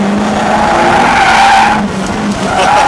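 A Nissan 350Z drifting around the Stowe circuit at Silverstone, its tires letting out a loud, sustained squeal that wavers in pitch over the steady engine drone, close and unbroken throughout.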